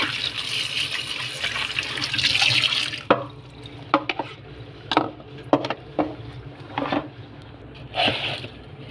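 Water is poured onto potted flower plants, a soft rushing pour at first, then scattered drips and splashes as the soil soaks it up.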